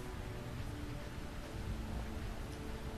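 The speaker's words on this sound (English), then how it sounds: "Why does the rain effect have to look so awesome?" Steady rain effect from the 16-bit-style RPG Memories of a Vagabond, a dense continuous hiss of falling rain with low rumbling underneath, constant and fairly faint throughout with no talking.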